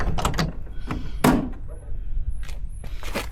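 The door of a 1966 Triumph TR4A IRS car clunks open with a solid thunk amid handling noises, close by, with faint background sounds before and after.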